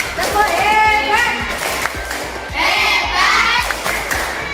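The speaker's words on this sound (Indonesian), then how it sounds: "Kita beri tepuk tangan untuk kelompok 1." A classroom of students claps rhythmically and chants together loudly to cheer a presenting group, with bursts of children's voices over the claps.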